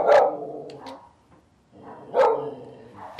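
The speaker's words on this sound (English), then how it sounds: "So now she's barking, because she's not sure about me." A whippet Patterdale cross dog barks sharply at close range, giving two loud bursts of barks separated by a brief quiet gap.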